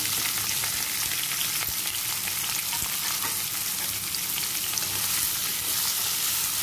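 Chopped water chestnut sautéing with green chili in a pan for a fasting-day vegetable dish, a steady close sizzle with faint stirring scrapes throughout, no talking.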